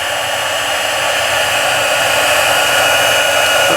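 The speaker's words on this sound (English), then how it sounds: "we will heat emboss this. It takes a little bit of time for your gun to heat up" Close, loud and unbroken, the blowing hiss of a heat embossing gun warms up for card-making embossing powder, with no voices over it.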